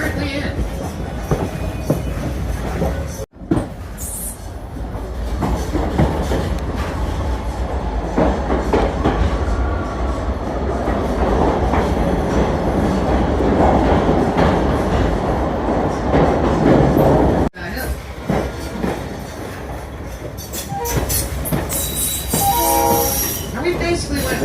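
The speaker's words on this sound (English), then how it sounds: "When this train goes underneath that church, it actually shakes the church a little bit." The Santa Cruz Big Trees tourist train rumbles loudly and steadily through a tunnel, with wheel squeal, horn-like tones and clanking railcar noise, the sound cutting out abruptly twice before resuming.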